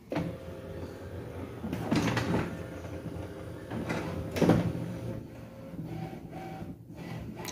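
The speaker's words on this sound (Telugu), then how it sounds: "లోపల ఈ జిరాక్స్ మిషన్ కూడా అంతా తిరిగిన తర్వాత అప్పుడు మనకి ప్రింటింగ్కి లైట్ వెలుగుతుంది అనమాట" An HP Smart Tank 580 printer powering on as its internal mechanism runs, giving a steady mechanical whir with a few louder clunks and slides, heard close and alone at a moderate level.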